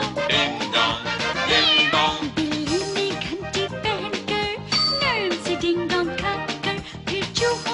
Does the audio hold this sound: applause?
no